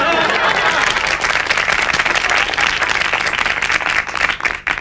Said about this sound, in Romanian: Să aplaudăm acești băieți minunați